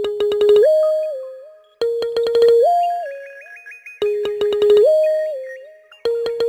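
A ringtone from iOS 17 on iPhone: a two-chord electronic tone with bright bell-like overtones, repeating in even phrases about every two seconds, loud and clear with no voices.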